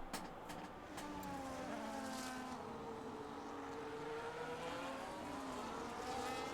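Race car at Monza in a racing video game shifting up to third gear, faint engine note sweeping through rising and falling pitches with a brief tyre squeal, distant and quiet throughout.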